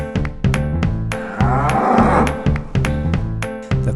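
A cow called Bettina moos loudly and repeatedly in a toy train story scene, deep harmonic lows mixed with clattering, tonal toy noises and short bursts throughout.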